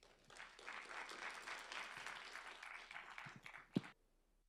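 An audience at a monthly lecture welcomes a speaker with a burst of applause, a dense wash of clapping that swells and fades within a few seconds, followed by a thump and quiet.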